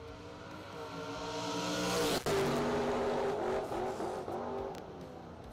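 A Mopar and a Mustang race car launch in a drag race, engines roaring loud and rising in pitch with tire squeal, then a sharp crack as they shift and keep howling down the track.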